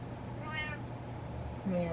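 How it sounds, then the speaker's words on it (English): A cat gives a short, soft meow early on, faint against a quiet indoor background. A brief tonal sound follows near the end. "I always love how his meow changes whenever he gets his way."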